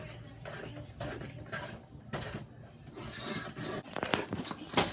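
Spoon stirring peanut butter fudge with melting marshmallows in a pot, a steady mix of scraping and soft clinks that grows slightly louder toward the end.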